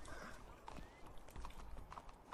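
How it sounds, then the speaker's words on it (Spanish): Horse hooves clip-clop in a steady run of hollow knocks on a street, moderately loud over a faint background hum. "Bonito caballo, ¿de quién es?"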